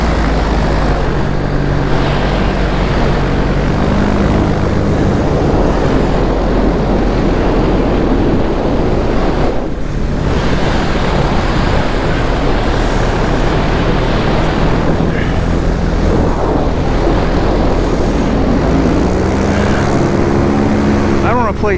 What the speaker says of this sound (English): see it in the air, see how it does